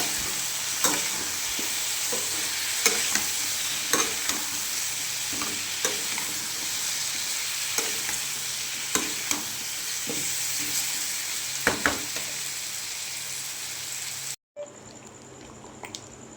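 Dalia frying in a hot pan with turmeric, salt and plenty of green chillies, a continuous close sizzle with periodic spoon scrapes and knocks, briefly cutting out near the end before resuming more quietly.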